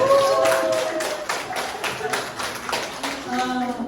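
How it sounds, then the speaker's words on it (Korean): Brief clapping from a small group at a company seminar, rising under a raised voice, with a steady beat of claps mixed with talk and background music. "청주에서 오신 이하진 사장님 박수"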